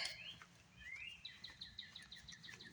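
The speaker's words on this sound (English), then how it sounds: "I love the sounds of all the birds." Birds chirp and sing outdoors in quick repeated high calls, with a steady low rumble of background noise underneath.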